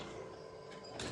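A sewing machine runs steadily while stitching the lining of a plain blouse, a close, continuous mechanical whir that swells in brightness near the end.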